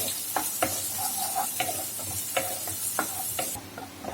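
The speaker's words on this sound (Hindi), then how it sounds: "जीरा होने के बाद हम इसमें प्याज डाल देंगे और मीडियम फ्लेम पर हम प्याज को भून लेंगे कलर चेंज होने तक।" Onions fry with cumin and asafoetida in a pan over a medium flame, with a constant sizzle broken by repeated clinks and scrapes of stirring. The sound is close and there is no talking.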